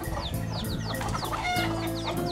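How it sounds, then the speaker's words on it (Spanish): A hen on a rural farm clucks repeatedly in short, close calls, with other birds chirping around it and a steady outdoor background. "¿Una gallina?"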